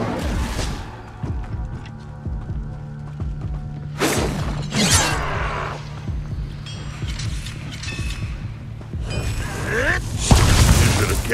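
Fire spell blasts cast in Hogwarts Legacy, several bursting whooshes and booms at intervals over a low droning game background, with a spell-casting voice shout among them.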